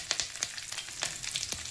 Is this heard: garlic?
yes